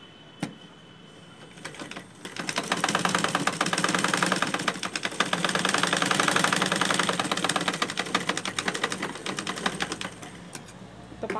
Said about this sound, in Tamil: இப்போ இதை அப்படியே ஒரு தையல் போடுங்க.